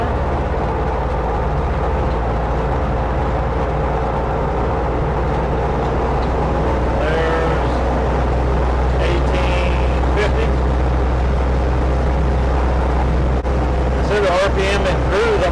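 A propeller aircraft engine runs loud and steady close by, a dense droning roar that holds after start and rises as the RPM is increased, with a voice talking over it.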